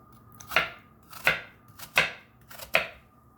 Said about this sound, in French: couper des petites lamelles comme ça de 2 à 3 mm